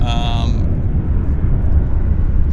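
A heavily loaded United Airlines jet takes off from Vancouver airport, a loud broad low engine roar rumbling steadily throughout, with a brief tonal whine fading early and a voice talking over it.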